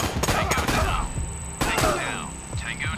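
A flashbang grenade thrown and detonating in the tactical game Door Kickers, with a couple of sharp thudding bangs among clattering in-game effects, loud and close.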